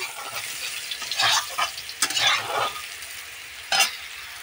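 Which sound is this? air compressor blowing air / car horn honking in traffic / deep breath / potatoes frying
potatoes frying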